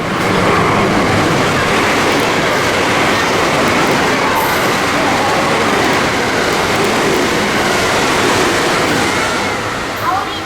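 A JR West Biwako Line train rolls into a station with a loud, steady rumble and rushing roar that fills the whole stretch, easing slightly only at the very end.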